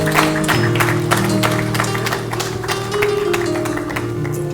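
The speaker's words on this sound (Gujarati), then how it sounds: "તાળીઓથી વધાવીએ" An audience claps steadily throughout at a religious festival gathering, a dense patter of hands over a sustained musical drone.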